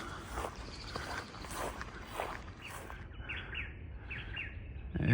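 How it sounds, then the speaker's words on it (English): Small birds chirp and call repeatedly at moderate distance in coastal heathland, with rustling footsteps of someone walking along the trail underneath. "Plenty of birds."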